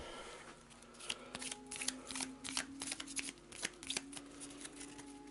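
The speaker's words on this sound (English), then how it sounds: "just shuffling these just to show it's a random draw" Playing cards being shuffled for the board game A Touch of Evil: The Banshee, a steady run of crisp riffling flicks and slaps up close, with no talk over it.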